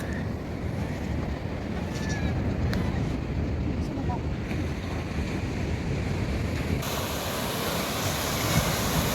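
Waves crash on the shore at Lingayen, a loud, continuous roar of surf mixed with heavy wind buffeting, with people talking now and then.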